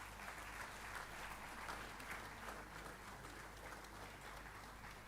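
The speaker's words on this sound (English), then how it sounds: "give a big round of applause to Kamya" Even, continuous applause from a crowd at a silver jubilee celebration honoring a young mountaineer, a dense wash of clapping heard at moderate distance with no talk over it.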